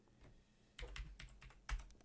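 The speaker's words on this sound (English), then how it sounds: "I'm just gonna type all of them in" Short runs of keystrokes on a computer keyboard as values are entered into music production software, a few soft taps followed by two firmer clusters, close and quiet with no voices.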